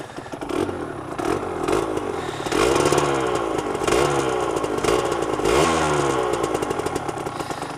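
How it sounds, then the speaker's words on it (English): Aprilia RS125 two-stroke motorcycle engine with a heavily packed, muffled exhaust, revving close by in a buzzing, rising and falling drone with repeated throttle blips. "I love the sound of a two-stroke."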